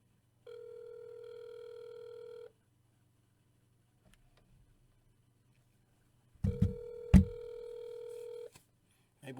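A phone call placed to reach someone directly, with two long steady ring tones separated by silence, clear and alone, and faint clicks on the line around the second ring.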